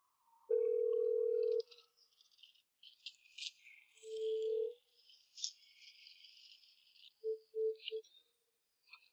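Telephone call tones on an unanswered call: a long steady beep, a shorter beep, then a few quick short beeps, faint and sparse with a soft crackle between them.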